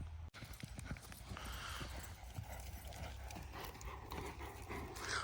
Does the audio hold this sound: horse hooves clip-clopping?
yes